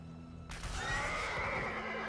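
A mount horse in the Diablo Immortal game whinnies once, a loud bright neigh that starts suddenly and rings out over a faint background, with clip-clop hints beneath.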